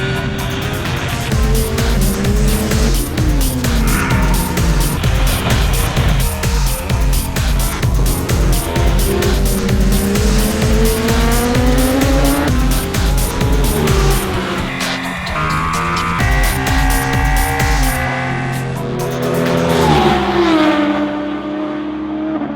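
A BMW S1000XR and a Ducati Multistrada 1200 S ride fast on a track, loud high-revving engines rising and falling through gear changes, a rapid pulsing roar that shifts pitch as they accelerate and pass, without talk.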